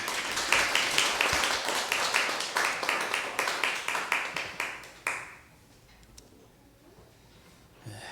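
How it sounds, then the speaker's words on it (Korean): A church congregation at a Sunday service claps in unison with a steady rhythm for about five seconds, then stops abruptly, leaving a quiet room with faint background sound. "우리 하나님께 영광의 박수 올려드리겠습니다."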